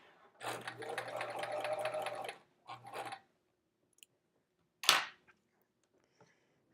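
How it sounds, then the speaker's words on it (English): A sewing machine stitches a quilt block in one steady run of about two seconds, then a short second burst, followed by quiet handling clicks and a sharp snip or tap near the end. "there is our first First sewing of the night."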